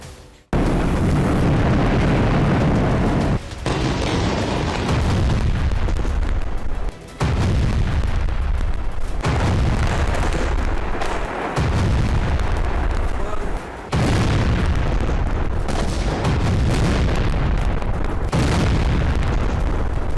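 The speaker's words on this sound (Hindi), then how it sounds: "गाजा में इंडोनेशियन अस्पताल के पास एक बार फिर बमबारी हुई।" Loud, heavy booms from bombing near the Indonesian hospital in Gaza, a series of about six rumbling blasts that strike every few seconds and leave a constant roar between them.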